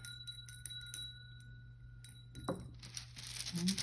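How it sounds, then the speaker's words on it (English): A small bell rings once during a tarot card reading, a bright metallic strike with a short shimmering decay over a quiet background hum, with soft handling noises around it. "Let's ring the bell."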